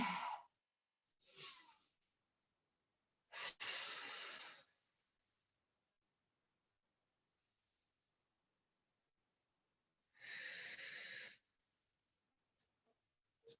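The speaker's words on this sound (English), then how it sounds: "Take a deep breath. Inhale. And exhale." Deep breaths taken during a stretching exercise come as a few close, airy inhales and exhales, each a second or so long, separated by silence.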